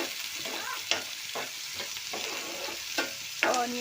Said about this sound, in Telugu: ఆనియన్స్ ఫుల్ ఫ్లేమ్లోనే ఫ్రై చేసుకోవాలి